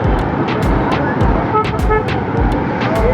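Car horns honk again and again in a jammed road in Quetta. Short toots overlap at close range over a loud, steady wash of engine and traffic noise.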